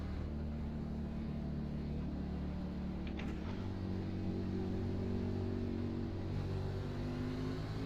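A race car in iRacing idling and blipping its engine to burn off fuel, a steady low rumble with a brief rev in the middle, heard from a distance under track ambience.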